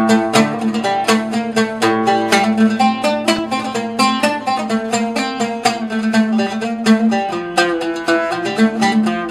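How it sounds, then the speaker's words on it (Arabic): An oud plays a lively melodic phrase of rapid plucked notes over a sustained low drone, bright and loud, with no voices. "هو ده العود، والصوت بتاعه يا أصحابي هو ده."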